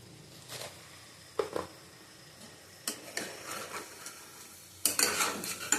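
Boiled taro being sautéed with five-spice seeds in a pan, with intermittent spatula scrapes and knocks over a low sizzle, close by and spaced in irregular bursts.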